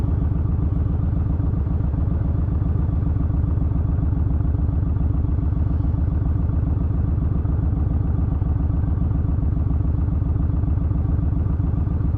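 A Yamaha 1600cc motorcycle engine rumbles continuously while being ridden, a deep, steady low throb with a muffled, even drone that holds at constant loudness, close up and with no talking.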